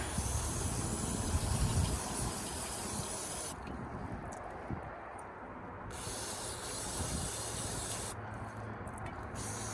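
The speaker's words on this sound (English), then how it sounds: "All right, let's give this a little spray down." Carb cleaner sprays onto the carburetor of a snowmobile engine in a scrapyard, a long near hiss with two brief pauses between bursts, over a rough background rumble.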